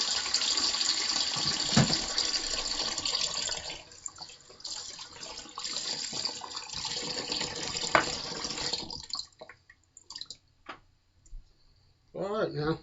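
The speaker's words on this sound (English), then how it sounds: "Cold water rinse" Cold water runs from a tap to rinse after a shave with a Coti Edge Refresh blade. It is a steady, close splashing stream that thins out and stops, leaving a few scattered drips and splashes.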